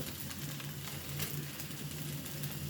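Noodles seasoned with Maggi masala frying in a pan, a steady close sizzle with a faint stirring texture and a soft low hum underneath, with no talk.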